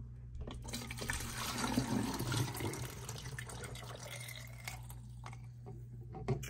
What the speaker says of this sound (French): Moi fin mettre de l'eau dans vaisseau.